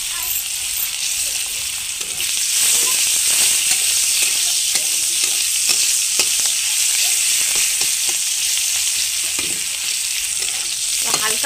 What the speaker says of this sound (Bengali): এবার দিয়ে দিচ্ছি পেঁয়াজ কুচানো। পেঁয়াজটাকে একটু ব্রাউন করে ভেজে নিচ্ছি।